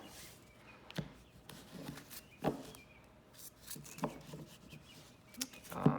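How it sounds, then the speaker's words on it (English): Old 30-year-old Magic: The Gathering cards being pile shuffled, heard as soft, quiet card slaps and taps dealt out one after another at an uneven rhythm over a faint background hiss. "This is kind of how I would pile shuffle."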